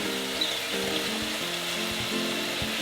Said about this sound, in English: what you have to do now is just add some leeks to your pans